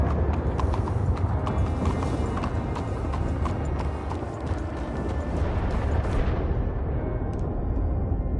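Steady clip-clop of horse hooves trotting close by in a PS4 game, with rumbling game-world ambience and occasional distant booms behind it.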